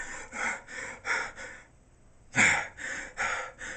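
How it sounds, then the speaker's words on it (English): Rapid, heavy breathing in quick audible breaths, a short pause, then a sharp gasping inhale followed by more fast breaths, close and without speech. "Rapid breathing."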